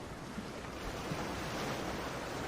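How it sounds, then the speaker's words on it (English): Ocean surf rolls in a steady, continuous wash of breaking waves, with a broad hiss and no voices. "I chose this sound because there's a reason that the ocean is appealing to all of us"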